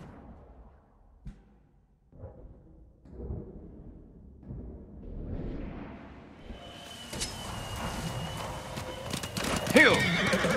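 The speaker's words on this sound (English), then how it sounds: "You're a good horse." A horse in the Ghost of Tsushima video game whinnies and clip-clops along, hoofbeats building as it moves through a farm scene, with a loud neigh near the end over busy game ambience.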